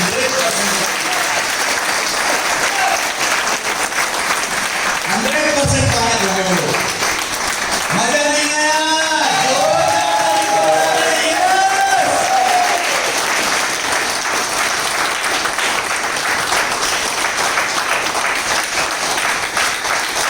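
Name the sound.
audience applause and cheering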